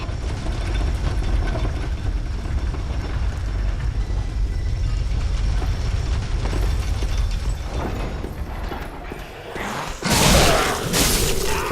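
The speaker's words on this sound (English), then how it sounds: "Back down the elevator." A heavy elevator rumbling downward in Dark Souls 3, a loud continuous low grinding drone with mechanical rattle, ending in a brief louder clunk as it arrives.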